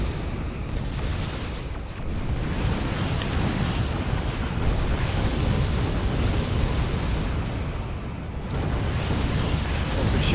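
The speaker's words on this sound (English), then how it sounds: "But there are too many explosions happening at once." Many explosions from a Star Trek Armada 3 space battle pile up into a dense, continuous rumbling roar with crackling bursts, loud and without pause.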